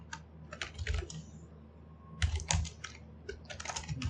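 Rapid typing on a computer keyboard: close, crisp clusters of keystrokes in quick bursts, with a short pause between runs and no talking.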